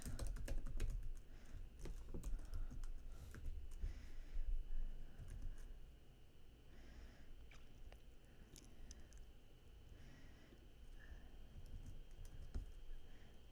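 Close, continuous clatter of fingers typing on a computer keyboard, quick irregular key presses with occasional louder taps, no voices.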